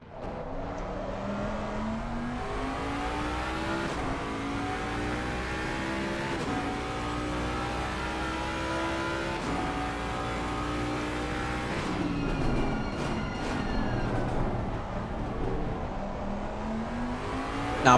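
A race car engine roars onboard through a sim-racing lap of Spa, revving up through the gears in long rising sweeps with brief shifts, loud and continuous throughout.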